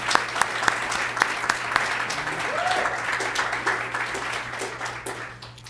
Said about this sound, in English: I want to really applaud everyone today.